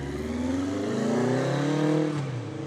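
A 1975 Kawasaki Z1 900 motorcycle engine revs loudly and close by, its rich inline-four note climbing and holding steady before easing back, with no talk over it.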